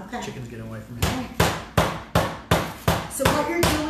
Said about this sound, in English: You are tenderizing the chicken because by beating it, you're breaking up the muscle fibers